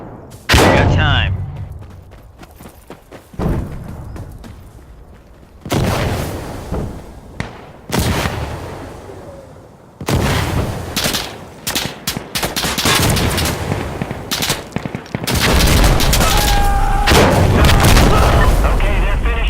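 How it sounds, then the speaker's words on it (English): Heavy explosive artillery shells in Insurgency Sandstorm crashing down in a rapid series of loud booms and blasts, some close and overlapping, with gunfire crackling between the impacts. "Explosive rounds on the way."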